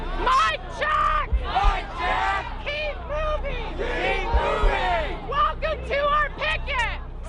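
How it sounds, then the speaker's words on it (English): Occupy demonstrators shouting at a port blockade: a crowd of people yelling and chanting in loud, overlapping bursts, voices rising and falling in unison with a few sharp thumps in the background. "this crowd of around 50 to 60 demonstrators is now being joined by the entire demonstration"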